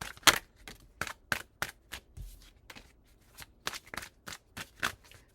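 Tarot cards shuffle in quick riffled bursts, a dozen or so crisp snapping flurries at close range separated by short pauses, with no talking.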